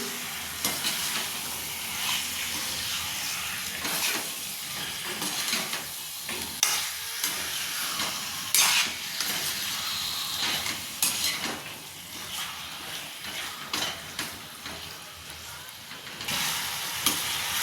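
Chicken pieces frying in oil for a dry chicken dish, stirred steadily in the pan with a coarse-ground masala, giving a continuous close sizzle broken by scraping and clinking of the spoon against the pan.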